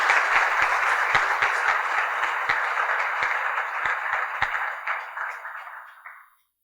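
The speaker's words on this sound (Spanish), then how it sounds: "démosle entonces la bienvenida con un fuerte aplauso a nuestro invitado del día de hoy, Arturo Cruz" Audience applause welcoming a guest speaker at a conference on Nicaragua's future: a dense, steady wash of many hands clapping that holds for several seconds and then fades out quickly.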